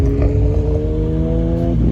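Toyota A90 Supra with an aftermarket exhaust at a night street-racing meet in Dubai, its engine holding a loud, steady throaty drone up close before the pitch dips slightly near the end.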